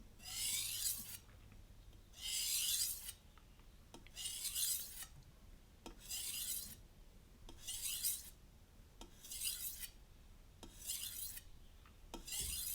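A kitchen knife is drawn across a sharpening stone in about seven evenly spaced rasping strokes, each a close, gritty scrape separated by short pauses.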